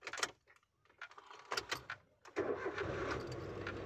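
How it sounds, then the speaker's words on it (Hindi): A manual car's engine, stalled during a driving lesson, is restarted: scattered clicks and knocks precede a sudden start, then it settles into a steady idle. "पूरा क्लच दबा के इंजन ऑन करो"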